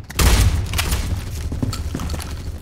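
SCAR rifle gunfire in Roblox Phantom Forces: loud, close rapid shots with a booming onset followed by a quick series of sharp reports over a rumbling background.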